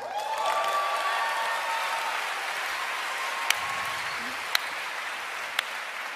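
Panel audience clapping at a convention, a broad wash of many hands under a faint murmur, with a few sharp isolated claps standing out near the end.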